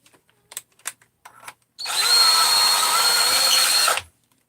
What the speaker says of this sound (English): I'm deburring these best I can